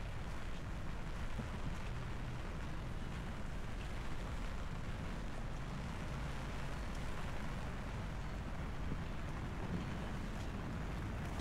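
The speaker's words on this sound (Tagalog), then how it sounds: "Lumalakas na naman ang ulan." Heavy rain pours steadily outdoors in Metro Manila during a typhoon, a dense, constant roar of water with wind buffeting the microphone and no voices.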